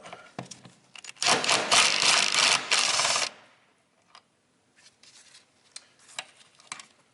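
On a 1995 Jeep Cherokee XJ, an impact wrench with a 10mm socket fires one loud, close, rattling burst of about two seconds to back out a bolt, followed by scattered light clicks and handling noises.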